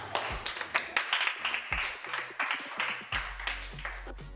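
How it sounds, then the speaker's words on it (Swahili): A small group claps in short, uneven bursts of distinct hand claps, fairly close and moderately quiet, ending with a low hum underneath. "Makofi kidada."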